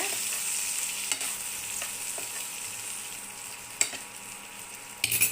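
Broccoli coated in mayo roasts lightly in a pan with a soft, continuous sizzle, broken by occasional clinks and scrapes of stirring, the sharpest near the end.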